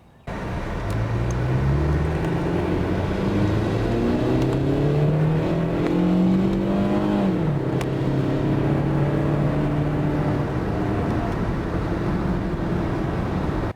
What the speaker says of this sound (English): I wanted to see how fast the car would go if I just kind of floored it to the floor.